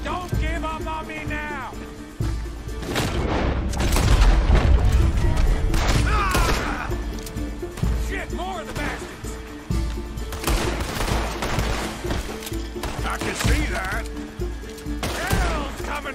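Gunfire in the Red Dead Redemption 2 video game, repeated sharp shots and bursts scattered through a loud, busy battle mix, with players talking over the action.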